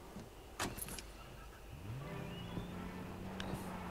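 Vehicle sounds in Far Cry 4, faint and close: a couple of short clicks and clunks come first, then a low engine hum settles in and runs steadily to the end.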